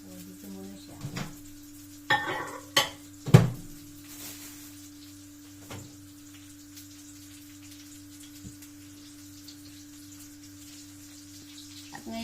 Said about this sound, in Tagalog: Nagluluto na rin po tayo ng talong.